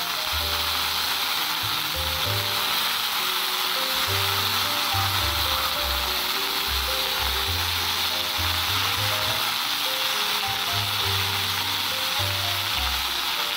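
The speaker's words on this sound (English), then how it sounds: "After putting the vegetable, saute this for 5 minutes." Vegetables and pudina leaves sautéing in a pan for vermicelli upma, a steady, loud, close hiss of frying that carries on without a break, with background music underneath.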